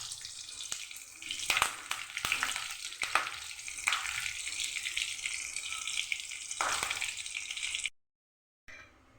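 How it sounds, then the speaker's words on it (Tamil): Mustard seeds, onion and curry leaves tempering in hot oil in a kadai, with a close, busy sizzle, scattered crackling pops and a few stir scrapes before the sound cuts out. "கடாயில் எண்ணெய் ஊற்றி கடுகு, வெங்காயம், கொஞ்சம் கருவேப்பிலையை வாஷ் பண்ணி வச்சுக்கேன்"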